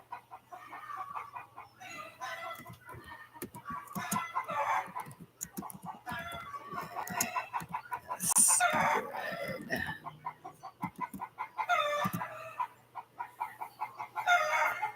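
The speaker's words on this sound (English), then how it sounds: "We got chickens like." Chickens cluck in irregular bursts and a rooster crows several times at moderate distance, the farmyard calls overlapping and rising and falling across the stretch with a low steady hum beneath.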